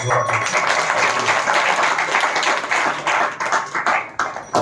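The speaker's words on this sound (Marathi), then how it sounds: "जोरात टाळी वाजवा" Audience at a bhajan and religious discourse gathering claps loudly together, a dense steady burst of many hands that swells and breaks into uneven rippling claps toward the end.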